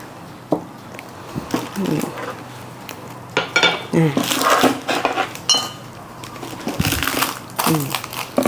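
A knife cuts through firm pub phet dough on a kitchen board, giving irregular knocks, taps and clinks against dishes and utensils, close and fairly loud, with someone talking intermittently.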